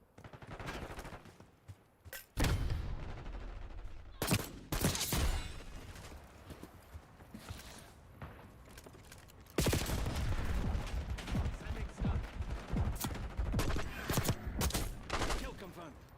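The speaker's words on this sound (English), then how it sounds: "I was going to try the SWAT 556, didn't I? What, is this a burst weapon?" SWAT 556 burst rifle fire in Black Ops 6 multiplayer, loud clusters of sharp shots coming in short bursts, with a busy stretch of repeated firing in the second half and quieter gaps between.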